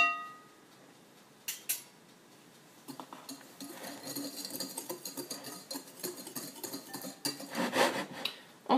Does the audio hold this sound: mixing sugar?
yes